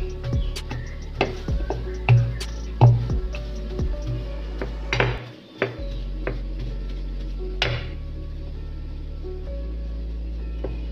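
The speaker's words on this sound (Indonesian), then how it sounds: "Menghaluskan tempe ini dengan cara apa saja boleh ya bun, tapi sekarang nih saya tumbuk." Tempeh is pounded with a mortar and pestle, making a series of sharp, irregular knocks and clacks, some louder than others, over a quiet room hum.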